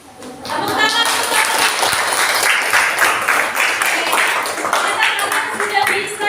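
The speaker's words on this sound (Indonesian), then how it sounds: "Tepuk tangan." Classroom of students applauding after a group presentation, loud dense clapping that swells quickly and holds steady, with some voices mixed in.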